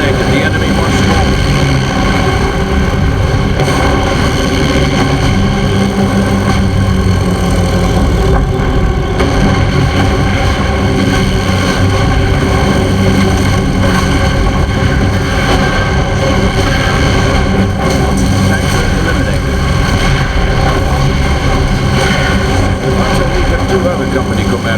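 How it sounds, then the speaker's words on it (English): Henschel aircraft strafing on a flyby in the Company of Heroes video game, heard as a loud, sustained engine roar mixed with battle noise that fills the whole stretch. "Henschel aircraft will fly by the target location, targeting all enemies within their flight path"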